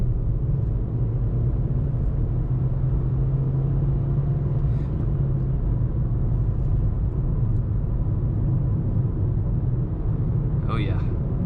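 A 2022 Nissan Versa S with a five-speed manual climbs a mountain hill, its engine a steady low cabin drone and rumble that holds throughout, with a brief faint rattle near the end.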